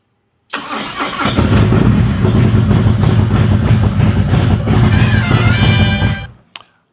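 A motorcycle with a freshly installed ThunderMax unit cranks and fires up in neutral, then settles into a loud, steady, loping idle right up close for several seconds before cutting off abruptly.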